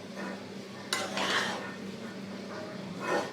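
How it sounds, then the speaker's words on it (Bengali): Vermicelli fries with sugar in a pan as a utensil stirs and scrapes it, giving a soft, moderate sizzle with occasional louder metallic clinks. "অল্প অল্প করে চিনি দিয়ে সেমাইটাকে লাড়ার উপরে রেখে ভেজে নেবেন"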